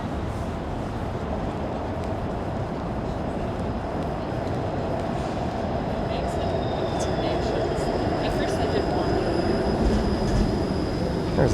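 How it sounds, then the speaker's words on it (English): Out-of-service Toronto 506 Carlton streetcar passing along a downtown street, a steady loud rumble of rolling wheels with thin metallic squeals on top, swelling slightly as it nears. "There's a 506 Carlton streetcar, one that is out of service."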